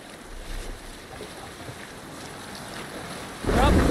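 A Viking longship sails the open sea in Assassin's Creed Valhalla, with a steady rush of wind and waves throughout that swells louder in the final half second.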